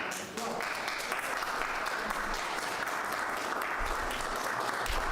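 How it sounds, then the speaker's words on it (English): Applause at the 2021 presidential inauguration of Joe Biden and Kamala Harris, a dense, even roar of clapping heard from a distance, steady for the whole stretch with faint voices beneath. "Pause for applause."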